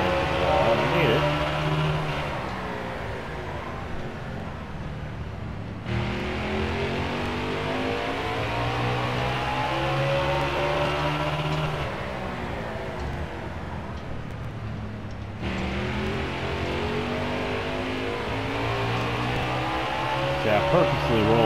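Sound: stock car engine accelerating in NASCAR Heat 4 video game

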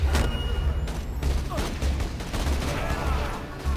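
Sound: gunfire in the video game Borderlands 2

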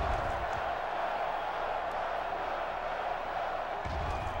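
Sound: crowd cheering in NCAA Football 06 video game

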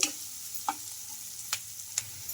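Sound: onions and curry leaves frying in a pan

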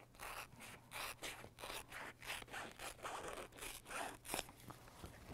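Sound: sharp scissors cutting material along a line

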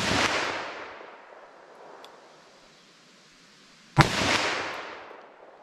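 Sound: 357 Magnum gunshots into ballistic gel

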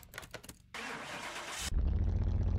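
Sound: Mercedes 500E twin turbo V8 engine starting, Car Mechanic Simulator 2021 video game

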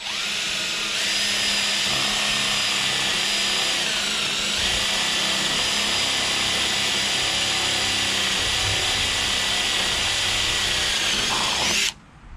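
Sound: drilling through ten layers of tin roofing

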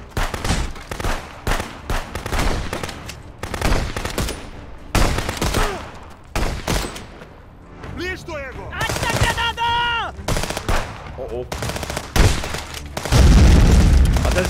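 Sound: explosion in video game Contraband Police

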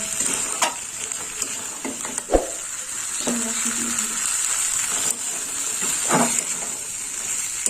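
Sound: green peas being stir-fried in spices in a wok

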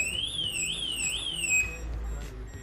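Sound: door security alarm

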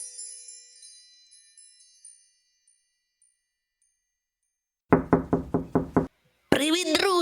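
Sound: knocking on a door

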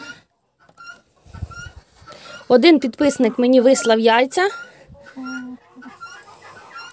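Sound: broody hen clucking

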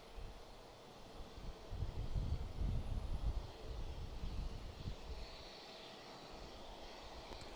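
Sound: Boeing 767 airplane at Houston Intercontinental Airport

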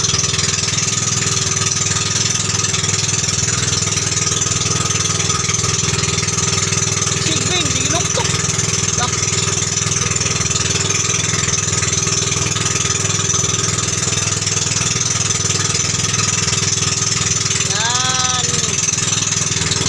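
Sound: small boat engine with loud high exhaust pipe

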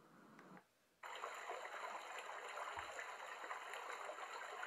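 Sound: brook stream flowing water sound from Dreamegg white noise machine

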